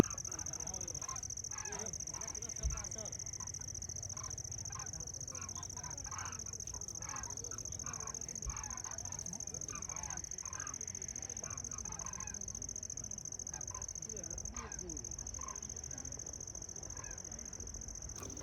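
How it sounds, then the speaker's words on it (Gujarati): Birds call in the evening sky over Dwarka, a steady faint chorus of distant honking calls under a constant high electronic whine and low background rumble. "તમે જોઈ રહ્યા છો કે અવકાશમાં પક્ષીઓ દેખાઈ રહ્યા છે અને તેમનો મીઠુર અવાજ સંભળાઈ રહ્યો છે"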